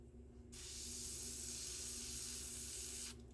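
A spray can hisses out a base coat onto an RC car body, one continuous close burst of about two and a half seconds that starts and stops abruptly in an otherwise quiet room.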